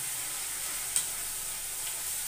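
Rohu fish stirred in a hot frying pan, a steady close hiss of oil with one faint clink of the utensil, no voices.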